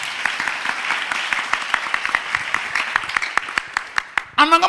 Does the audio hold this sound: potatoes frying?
no